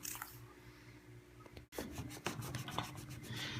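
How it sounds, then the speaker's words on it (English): A damp cloth scrubs over a surface, likely a wooden dining table, with repeated rubbing strokes that start soft and grow busier and rasping in the second half, close by and steady. "And we'll scrub it up a little bit. Damp cloth."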